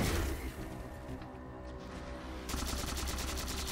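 Gunfire crackles in the shooter Halo 4, a dense, busy stretch of battle noise with a steady rapid-fire rattle joining in partway through, all fairly quiet and without talk.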